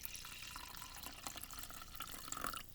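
Water poured into a plastic bottle while making a calming bottle, a steady trickling splash with faint dripping, continuous and close at moderate level.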